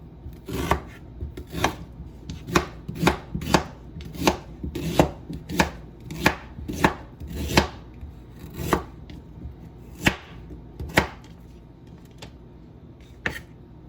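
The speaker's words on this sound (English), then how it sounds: "So the first thing I'm going to do is just cut my ginger up so I can blend it." Knife chopping fresh ginger on a cutting board, a series of crisp, close thuds in an uneven rhythm with brief pauses, alone and moderately loud.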